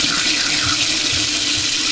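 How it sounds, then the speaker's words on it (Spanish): Hot water pours from a household tap into a sink drain, a steady, loud, close rushing splash that holds constant and has no talking over it. "soltamos agua"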